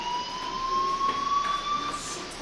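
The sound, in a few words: school fire alarm in the video game Life Is Strange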